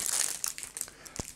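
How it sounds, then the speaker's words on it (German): A plastic bag of sweets crinkles and crackles up close in a quick burst of sharp rustles, then a few scattered softer crinkles as it is handled. "Hier habe ich dann noch so eine Tüte"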